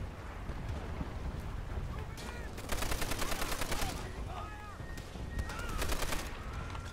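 Rapid bursts of machine gun fire from a tower in the World at War co-op campaign, clattering in several sustained volleys over a rumbling battlefield background.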